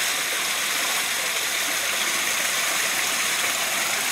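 Water runs in a small stream into a basin, a steady, close, hissing rush of flow, constant and fairly loud throughout with nothing else heard.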